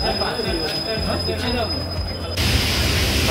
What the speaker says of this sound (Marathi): आता आणि ट्रेन सुरू झाली बाबा, ते महत्वाचं आहे.